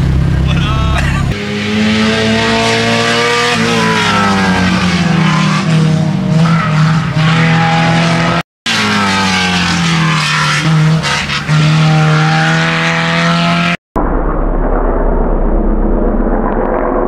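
A Honda Civic fitted with a big brake kit is driven hard on a racetrack, its engine revving up and down loudly with tire squeal and skidding through corners, in a few abrupt cuts.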